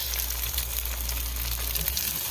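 Eggs sizzle and crackle in a hot pan, a steady bright frying hiss with small pops, up close and without talk.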